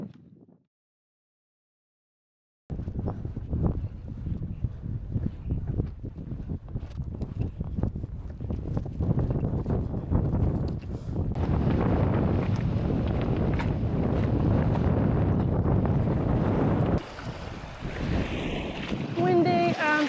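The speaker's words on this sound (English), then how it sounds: "So the wind has picked up a bit." Gusty wind over a bay at Ullapool, Scotland buffets the microphone in a steady roar, mixed with the wash of water, after a brief silent start; the sound shifts and thins near the end.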